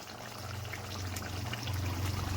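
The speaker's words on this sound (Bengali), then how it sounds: "অল্প একটু ঘি দিয়ে দিচ্ছি আর দিয়ে দিচ্ছি একটু গরম মশলা।" Ghee poured into a pan of rohu fish kalia, a soft steady trickle of liquid over a low hum that grows slightly louder toward the end, with no talking.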